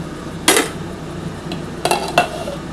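A lid comes off a pot of mutton keema bora curry with a sharp metallic clank, followed by two lighter clinks of metal on metal against a quiet kitchen background.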